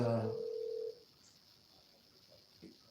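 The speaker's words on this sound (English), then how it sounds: "He answered the phone." A telephone ringing on a live call, a single short tonal ring that cuts off after about a second, leaving faint room hiss behind.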